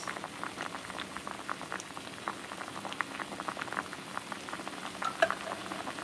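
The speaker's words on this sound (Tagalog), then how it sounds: "Ayan, kulo-kulo na." Corn cobs boil in a pot of water, giving a steady, close bubbling patter of small pops with no talking.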